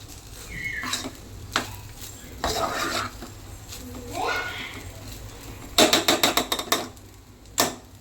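A spoon stirs cumin rice in a cooking pot up close, making repeated scraping sweeps against the metal, broken by a quick run of sharp clinks and a final tap.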